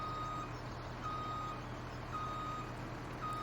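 Truck reversing beeps from a Kenworth backing up a gravel driveway in Farming Simulator 17, a steady repeating beep-beep pattern over a low engine idle, alone with no talk.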